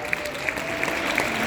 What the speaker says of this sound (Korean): 여러분들 정리해 박수 주세요